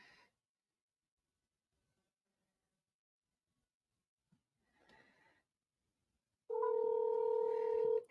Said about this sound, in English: Can you guys hear it ringing?